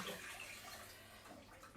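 Vegetable stock poured into a soup pot of roasted red peppers: a faint, continuous, soft liquid splash and trickle, steady and unbroken.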